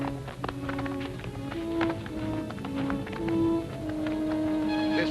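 Horse hooves clop over a busy background of mixed noise and tones, steady and moderately loud, with no clear speech.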